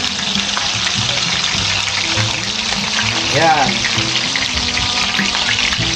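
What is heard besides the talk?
fish frying in hot boiling oil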